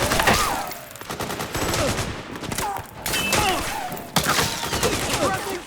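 Suppressing gunfire in the video game Metal Gear Solid 4, dense overlapping automatic bursts and fusillades that run almost without a break, loud and close, with shouted voices mixed into the battle.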